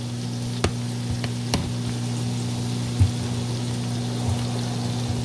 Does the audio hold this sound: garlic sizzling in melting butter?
yes